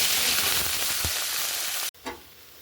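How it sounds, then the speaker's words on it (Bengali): Fish fry in a hot wok on a gas stove, producing a steady, loud, close hiss of spitting oil that cuts off abruptly, followed by a brief quieter sizzle. "এখন মাছগুলোকে ভাজা করে নেব"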